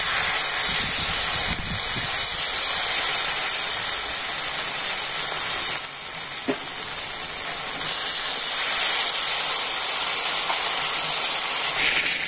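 Ginger fries in hot oil with a loud, continuous hissing sizzle that barely lets up, dipping briefly in the middle before returning to full strength.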